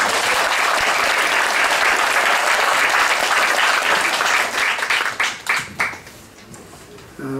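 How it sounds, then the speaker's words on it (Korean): Church congregation applauding in a sustained burst of dense clapping that thins into scattered last claps and fades toward the end, fairly close and loud. "한번 박수 좀 보내주세요"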